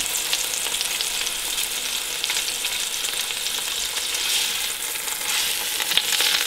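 Flanken beef browning in a pot for tzimmes, a continuous close, bright sizzle of meat frying in hot fat, with faint stirring scrapes and no voices.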